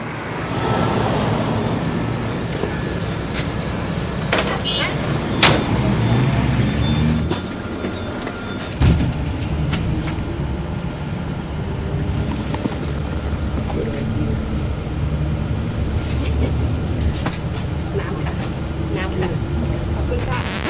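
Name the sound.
airport bus ride in Bangkok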